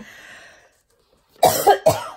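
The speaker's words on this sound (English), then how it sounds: "Of course, I would start coughing" Three quick coughs in a row, close and loud, after a moment of near silence.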